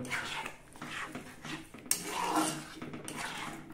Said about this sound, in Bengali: এরপর চিনিটাকে ভালো করে মিশিয়ে নেব